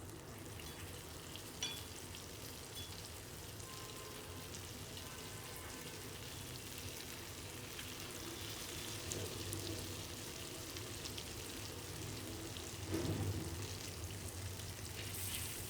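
Fish fillets frying in a pan after being turned with tongs, a steady, fairly quiet sizzle that runs throughout, with a brief louder burst of spattering near the end and no talking.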